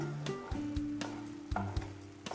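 Melted jaggery bubbles softly in a pan, a quiet steady sizzle with faint pops and occasional clinks of a utensil, close and without speech.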